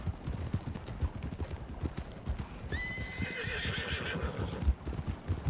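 Video game horses pulling a wagon whinny loudly over steady clip-clop hoofbeats and rattling movement, with a shrill neigh rising and trailing off midway through.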